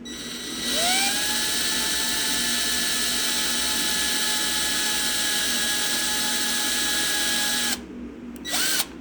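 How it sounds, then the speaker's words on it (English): A small power drill with a tiny bit winds up and whines at a high, steady pitch while pre-drilling the posts on a Hot Wheels die-cast car, runs for several seconds, then spins down and briefly revs again. "I like to pre-drill the posts with the 116 drill bit"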